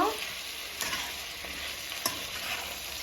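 Spinach with tomato, turmeric and salt being stirred in a hot pan, a steady close sizzle broken by a few soft scrapes of the spoon.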